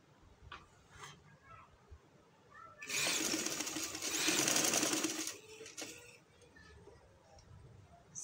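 A sewing machine stitches lace onto a folded neck strip in a loud burst lasting a couple of seconds, with quieter handling sounds and a voice before and after.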